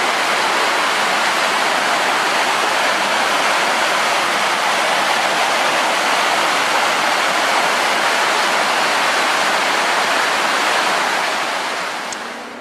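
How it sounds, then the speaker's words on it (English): Steady roar of Christine Falls, a waterfall in a canyon beneath a road bridge in the Mount Rainier area, heard as dense continuous broadband rushing water that stays loud throughout and eases slightly at the end. "We are at the Christine Falls overlook."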